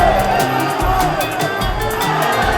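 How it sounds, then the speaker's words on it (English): A crowd at a Muay Thai fight gives loud, sustained murmuring and cheering reactions to strikes, dense and close with chattering voices throughout. "Every strike landed gets an ooh and an ah from the crowd"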